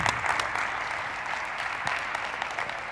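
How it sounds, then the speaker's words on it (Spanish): Conference audience at a tech talk on reinforcement learning applauds a volunteer, a steady even patter of many hands clapping for a few seconds, moderately distant and without talk. "Un aplauso,"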